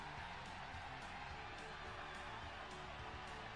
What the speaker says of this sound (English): Wow. It's a very packed crowd.